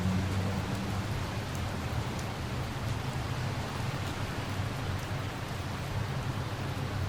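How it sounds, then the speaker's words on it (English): Rain falling outside as a steady, even wash of noise with a low rumble underneath, continuous throughout with no voices. "It was raining outside."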